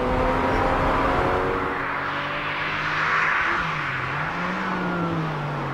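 A Porsche 911 engine pulls hard and revs, its pitch climbing and dipping as it accelerates, with steady road and wind roar underneath.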